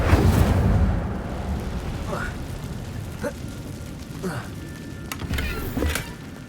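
A fiery Incendio spell is cast in a video game: a roaring burst that eases into a crackling rumble, with short whooshes and pops following.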